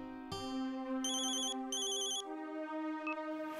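A phone ringback tone plays steadily, with two bursts of higher electronic ringing pulses layered over it, loud and close with no talking.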